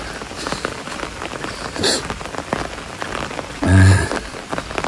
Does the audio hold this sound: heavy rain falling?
yes